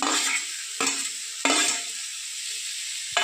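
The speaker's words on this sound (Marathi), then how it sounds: "आणि दोन चमचे तीळ आता हे सगळं परतून घेऊया" Cashews, coconut, garlic and sesame seeds with chopped tomato sizzle steadily in a hot pan, with a spoon scraping and stirring in about four distinct strokes over the continuous frying hiss.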